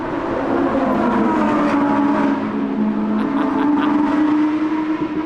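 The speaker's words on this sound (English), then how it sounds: "you can't beat a naturally aspirated engine for some proper passion" A naturally aspirated Lamborghini Huracán Performante engine howls steadily and loudly on a racetrack with a sustained mechanical whine, no voices heard.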